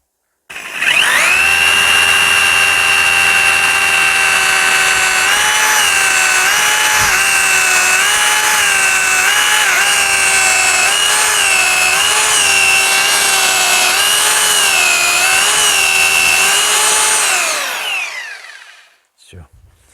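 A power drill bores into masonry while a corner fireplace is being built. It runs as one loud, continuous whine with a slightly wavering pitch for about seventeen seconds, then winds down and stops.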